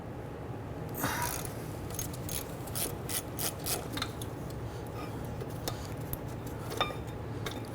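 Ratchet loosening caliper bracket bolts on the rear brakes of a 1994-2004 Ford Mustang, a run of quick metallic clicks and rasping turns against a steady background hum, fairly close and with no talking.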